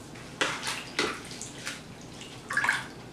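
An oil painting brush being rinsed under running water, with short bursts of splashing and trickling water heard close by in separate pulses, no voices.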